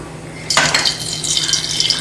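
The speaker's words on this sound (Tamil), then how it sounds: "இப்போ ரவையை எடுத்துட்டு மறுபடியும் கொஞ்சம் நெய் விட்டுக்கலாம்." Ghee poured into a pan while making a quick healthy evening snack for kids: a sudden liquid splash and clatter at the pan, then a steady bright sizzle that keeps going, close and fairly loud, with nobody talking.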